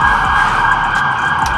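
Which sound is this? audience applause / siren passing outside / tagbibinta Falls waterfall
siren passing outside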